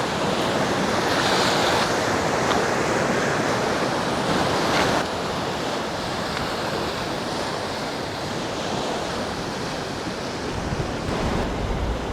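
Waves washing onto Alykes beach on Zakynthos, heard from a jetty: a steady, full surf roar with wind buffeting the microphone, continuous throughout and no talk.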